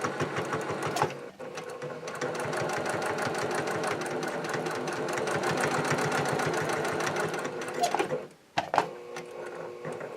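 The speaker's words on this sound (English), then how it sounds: "we're going to be back stitching this to start and stop as well, or knotting your threads if you have that function on your machine" Up close, a sewing machine runs in rapid, even bursts as it back stitches a clutch wallet, pausing briefly near the end and then resuming.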